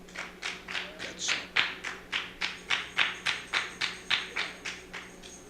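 A group of people clap in unison on request, about a dozen sharp, evenly spaced claps in a steady rhythm, moderately loud and close, with no talking over them.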